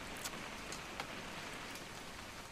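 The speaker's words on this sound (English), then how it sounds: "It's gonna rain the whole weekend, isn't it?" Steady rain pours in a What Remains of Edith Finch game scene, a constant hiss of drops with a few sharper spatters, no voices.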